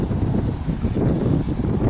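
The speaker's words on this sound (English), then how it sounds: "The wind's starting to pick up real bad." Strong wind buffets the microphone on the Empire State Trail near the canal locks, a loud continuous low roar with gusty fluctuations and no talk.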